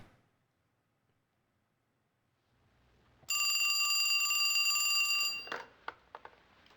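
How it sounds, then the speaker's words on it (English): A video-game telephone rings with a bright, steady electronic bell tone for about two seconds, loud and alone after near silence, then cuts off into a few soft clicks. "Let's answer the phone."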